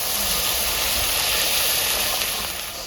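Water poured onto fried spices in a hot pan for a shankar fish curry sends up a loud, continuous hiss of steam and bubbling, close by, easing slightly at the end.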